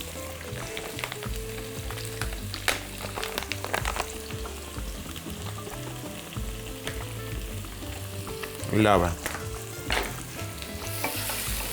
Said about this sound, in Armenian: թող տապակվի